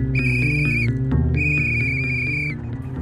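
Repeated shrill whistle blasts in the Hello Neighbor Hide and Seek video game, two long sustained tones separated by a short break, loud over a steady low game background.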